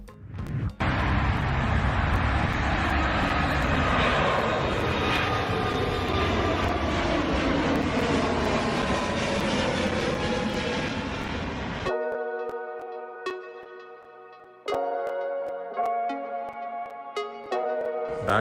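A Boeing 737 BBJ at Beirut Airport gives off a loud, steady jet-engine roar for about twelve seconds, which then cuts off and leaves a quieter tonal hum with faint clicks.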